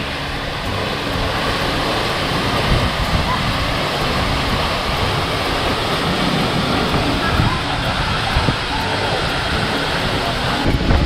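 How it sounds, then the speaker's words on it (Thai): Kaeng Nyui waterfall near Vang Vieng, Laos, pours in a steady broadband roar of falling water, constant and fairly close, with a faint rush of wind mixed in and no clear speech on top. "บรรยากาศน้ำตกแก่งนุยอยู่น้องเลย สวยงามมากครับพี่น้องครับ"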